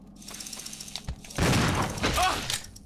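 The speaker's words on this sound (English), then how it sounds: "How come they're just not getting affected by this shotgun?" A shotgun in Resident Evil Zero HD Remaster goes off in a sharp, heavy blast, followed by a booming, crackling discharge mixed with game noise, while someone talks over it.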